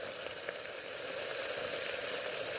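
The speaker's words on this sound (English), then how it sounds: "Look, that's real sizzling." Monterey Jack sausages sizzle over a campfire while wild camping in Scotland, a steady close hiss of frying fat that holds evenly throughout with no talk.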